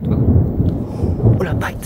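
Thunder rumbles close overhead as storms form, a dense low roar swelling and easing through a summer thunderstorm, with rain hiss and a brief faint voice near the end.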